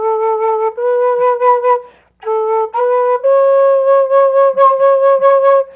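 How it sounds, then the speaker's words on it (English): A keyless sassuto flute plays a few sustained, clear, breathy notes, one held low tone alternating with slightly higher ones, separated by a short gap, played alone and close. "This is the sassuto."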